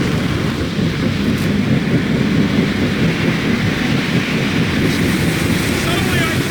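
Strong, tremendous wind gusts roar steadily in the Guardians of the Galaxy video game, a loud broad rushing wash with rumbling low noise that holds the whole time, and a voice briefly heard under it.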